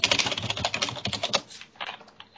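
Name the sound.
fast typing on a computer keyboard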